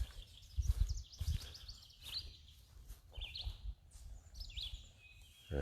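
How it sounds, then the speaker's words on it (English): Bird song rings out in bright, repeated phrases over low background rumble, with several short warbling bursts spaced through the quiet outdoor scene. "I think that's him singing up over there. Yep, there's the red-eyed vireo."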